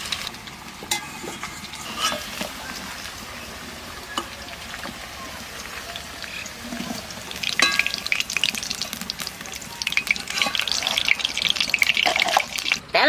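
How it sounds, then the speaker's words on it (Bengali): Raw young jackfruit frying in oil in a pan, a steady sizzle that grows louder and crackles harder toward the end, with occasional stirring. "এইবার ইঁচড়টাও ভেজে নেবো"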